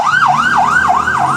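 An ambulance siren on a Mexico City street wails loud and close, its rising and falling sweep repeating about four times in quick, even cycles.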